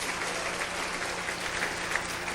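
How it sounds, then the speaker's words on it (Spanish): A church congregation applauding at a service, dense steady clapping from many hands throughout, close and sustained with no break. "Dale un aplauso más fuerte al Señor."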